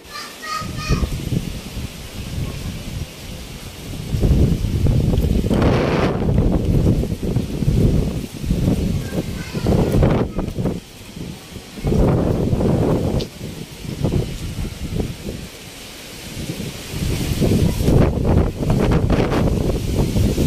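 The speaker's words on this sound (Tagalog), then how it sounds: "Grabe po kalakas ang hangin." Strong typhoon gusts roaring outdoors during Typhoon Kristine, buffeting the microphone in heavy surges that swell and ease every few seconds, with a brief voice at the start.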